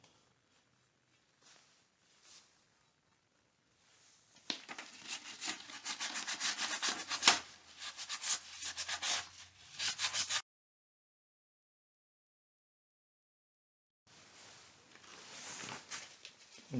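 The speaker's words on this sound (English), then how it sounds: "I'm sanding off the other side." Wet sanding of curb rash on a car wheel with 220-grit sandpaper, a close rhythmic rasping scrape in steady strokes, starting after a few faint knocks, stopping abruptly and resuming after a pause.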